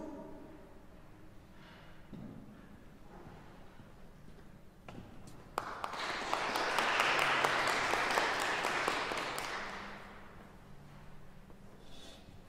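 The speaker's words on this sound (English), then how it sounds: "Clap for him, please." Audience applause after a performance in the first round of an international piano competition. The clapping swells from faint scattered claps into a sustained burst for several seconds, then fades back to quiet.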